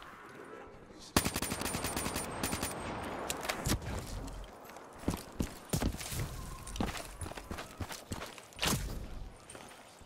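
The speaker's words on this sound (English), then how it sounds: "Gunfire in the background is a guy that spawns beneath the map" Bursts of video game gunfire from Call of Duty: Black Ops 3, single shots and rapid volleys, crack out irregularly over a steady background hum, some sharp and close, others more distant.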